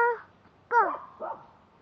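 A dog gives three short, close barks and yips, the first brief, the second loudest with a whining edge, the third softer, alone without talk.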